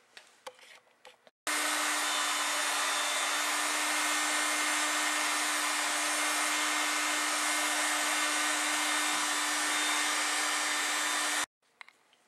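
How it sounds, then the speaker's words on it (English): A hair dryer runs steadily for about ten seconds, heating engine pistons so the wrist pins will fit, a loud even whoosh with a faint steady whine, starting and stopping abruptly with brief workshop noise before and after. "we have to heat these pistons with the hair dryer or the air gun"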